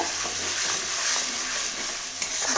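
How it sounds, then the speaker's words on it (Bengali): Pabda fish in mustard masala fried in a pan as it is stirred, a dense, even hissing sizzle held at a constant level throughout, with no voices. "এবার আমি একটু জল অ্যাড করে দেবো ভালো করে কষিয়ে নেব"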